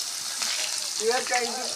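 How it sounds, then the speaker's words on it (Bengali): Chopped onions frying in a pan for a mutton dish give a steady, moderate sizzle close by, with a voice speaking faintly over it partway through. "পেঁয়াজগুলো লাল লাল করে ভেজে নেব"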